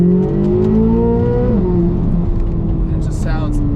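A stock 2023 Chevrolet Corvette Z06 with its mid-mounted engine revs up, its pitch rising and then settling into a steady drone, loud and close, while someone talks over it.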